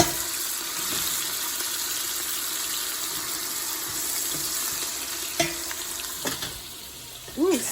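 Onions and garlic fry in hot oil for gravy and meatballs, giving a steady close sizzle with a few clinks of a utensil and a faint voice near the end.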